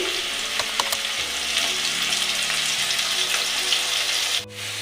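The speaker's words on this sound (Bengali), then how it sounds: "আলুটা আমার প্রায় ভাজা হয়ে এসছে" Potatoes frying in mustard oil in a pan, seasoned with salt, give a steady close sizzle that runs throughout with a few soft clinks, with no one speaking.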